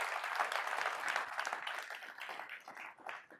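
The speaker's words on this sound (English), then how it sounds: "Round of applause again for our broker partners." A crowd at a corporate mortgage broker event applauds warmly, dense clapping that tapers into scattered claps within a few seconds.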